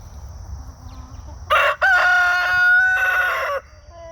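A rooster crows in the morning, one loud, close cock-a-doodle-doo rising out of quiet outdoor ambience. It breaks briefly, then holds for about two seconds before cutting off.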